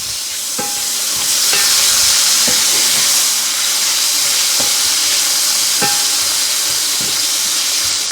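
Squid pieces fry in hot oil in a pan for paella, with a loud, steady hiss and sizzle close up and a few sharp clinks of a utensil stirring at intervals. No one speaks.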